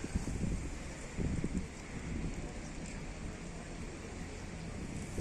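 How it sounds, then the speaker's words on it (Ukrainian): Steady wind roars and buffets the microphone at an outdoor market in Cherkasy, Ukraine, with low gusty rumbles rising and falling throughout and no voices. "І вітер, страшний вітер."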